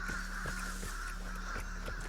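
Crows caw repeatedly in the video game Vigor, a series of short, harsh calls spaced roughly every half second over a steady background hum, fairly close and moderately loud.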